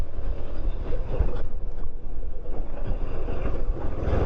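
A Peugeot XP 400 scooter, a 400 cc model, accelerates up a very steep hill, its engine a steady low drone mixed with heavy wind rush on the microphone and no speech.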